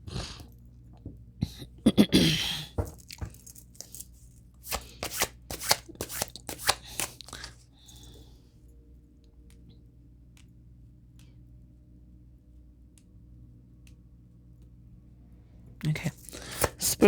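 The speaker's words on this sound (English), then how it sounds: "Let me pull some cards on these." Tarot cards are shuffled by hand at close range, with rapid riffling bursts early on. Then comes a quiet stretch, and a final burst of shuffling follows. A voice speaks over parts of it.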